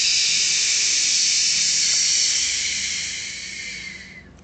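A voice imitates wind rustling through leaves with a long, loud breathy hiss that gradually fades over several seconds, alone without other sounds.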